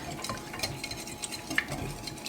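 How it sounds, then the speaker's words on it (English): A whisk stirring Mediterranean pasta salad dressing in a bowl, with soft, quiet scraping and light clinks of metal on the bowl repeating steadily over a couple of seconds. "I'm just going to give this a whisk until everything is nice and combined"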